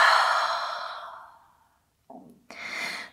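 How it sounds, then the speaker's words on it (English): A deep, sighing exhale in a yoga session, heard while moving into downward facing dog. It is loud and close, trails off over about a second and a half, and is followed by quieter short breaths. "exhale."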